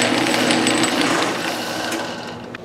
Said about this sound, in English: So let me turn down this piece of aluminum